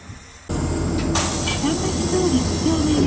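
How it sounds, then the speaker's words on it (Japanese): A Tosa Electric Railway tram at the Kochi Station stop gives a steady rumbling hum, joined by a sudden hiss like air brakes or doors, then a continued loud idling drone with a faint tonal whine. "3日目1本目の電車は高知駅前停留場を6時19分に発車する桟橋通り5丁目行きです。"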